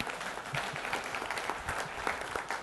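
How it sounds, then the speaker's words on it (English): An audience at a TechEd Europe 2013 technology conference session gives a short burst of dense, scattered clapping, moderately distant and steady throughout, with no voices over it. "Give the man a round of applause."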